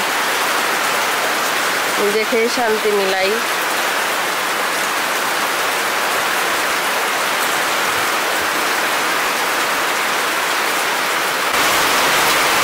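Heavy rain pours down steadily in a village during a storm, a dense continuous hiss throughout, with a brief spoken phrase early on.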